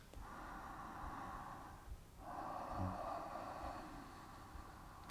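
Slow deep breathing during a morning yoga session, two long drawn breaths with a brief pause between, soft and close over a quiet background.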